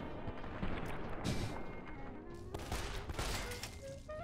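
Gunfire from the Fallout: A Tale of Two Wastelands video game, several quick sharp shots and bursts in a row over a faint game background, fairly quiet, with no talking.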